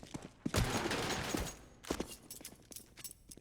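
Gunfire in the video game Counter-Strike on the Mirage map: a short flurry of shots and clatter, fairly quiet, with a few separate cracks afterward.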